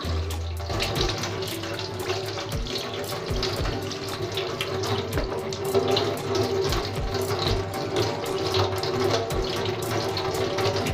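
Tap water runs steadily into a sink while something is rinsed, a continuous close splashing rush that fills the whole stretch with no talking over it.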